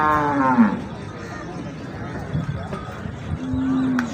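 A foreign-breed cow at a livestock market in Gojra lets out a low, drawn-out moo near the start, with further lowing later over the steady crowd hubbub and background voices of the busy market.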